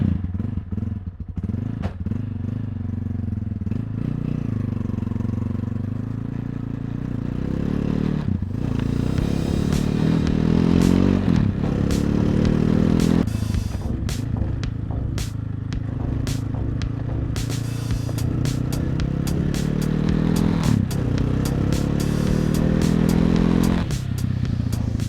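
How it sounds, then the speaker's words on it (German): A motorcycle rides a shortcut over a bridge and along the jungle toward the nearest town, Caazapá, its engine droning steadily close by while the bike clatters and thumps over rough ground, with rises in pitch as it accelerates. "Heute fahre ich also seit langem mal wieder mit dem Motorrad in die nächste Stadt"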